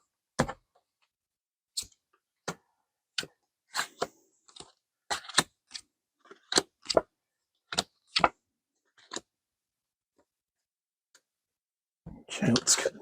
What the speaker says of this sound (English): let's do one more shuffle and cut the cards